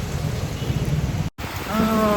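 Heavy monsoon rain arriving in Kerala, a dense steady hiss of downpour that swells louder after a brief dropout, with faint voices underneath.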